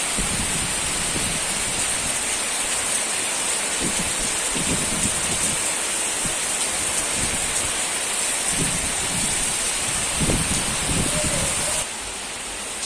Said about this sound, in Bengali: এই দেখুন প্রচুর বৃষ্টি হচ্ছে